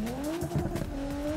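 A tweaked Nissan GT-R engine in Need for Speed 2015 drones with a steady, close tone that dips and climbs slightly, with a short burst of tire squeal partway through and no talking.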